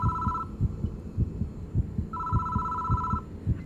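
A telephone ringing in the horror video game Hanayome Death Mark, two bursts of shrill electronic ring over a throbbing heartbeat-like pulse and low ambient hum.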